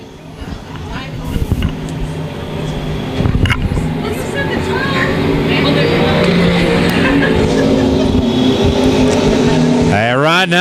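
Dirt track race cars roar around Lakeside Speedway during a USRA Nationals heat race, a loud, sustained engine drone that builds and holds, with a commentator talking over it.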